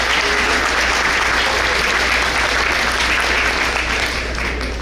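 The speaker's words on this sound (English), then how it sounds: "Let's give Cal a round of applause." Crowd at a district breakfast event applauding the breakfast sponsor: loud, dense, continuous clapping over a low electrical hum, holding steady for several seconds.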